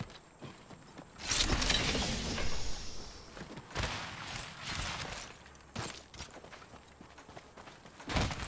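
In Apex Legends, a care package drops and lands with a mechanical whir, creaks and metallic clanks, fairly close and moderately loud, with a few sharp knocks near the end.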